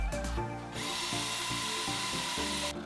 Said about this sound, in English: So in order to punch all the way through the brick, really long drill bit, and punch all the way through